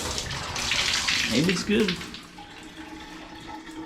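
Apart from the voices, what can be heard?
water running from a hotel tap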